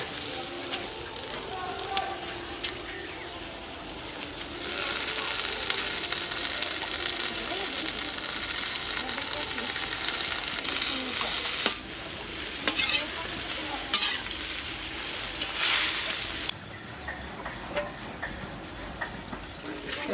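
Helencha greens going into a pan of boiling water, bringing a steady hiss and bubbling with rustling, stirring noise and a few knocks against the pan, continuous throughout.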